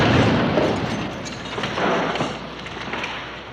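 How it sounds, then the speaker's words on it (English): A powerful grenade explosion erupts as a loud, broad rumbling blast that lingers and slowly fades, with smaller rolling swells following. "There came a powerful explosion,"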